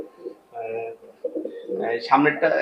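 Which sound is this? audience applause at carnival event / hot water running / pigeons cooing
pigeons cooing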